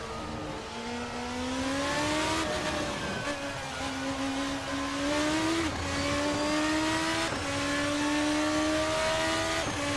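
Formula RSS 2 open-wheel race car in a racing simulator, its engine droning loud and steady with harmonic whine rising through each gear, then dropping sharply at several upshifts, with no talk over it.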